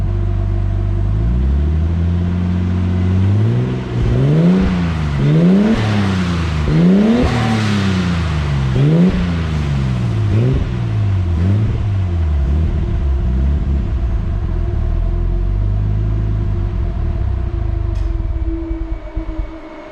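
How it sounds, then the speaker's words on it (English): A Nissan R32 Skyline engine is revved several times in quick succession, each rev sharply rising and falling over a loud, close rumbling idle, before it settles back to a steady idle. "Let's give her a couple revs,"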